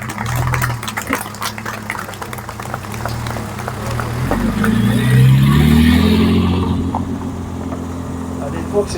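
Vintage car engine idling, then revving and rising in pitch near the middle, at an outdoor concours d'élégance with a crowd around it. Someone talks throughout over the engine.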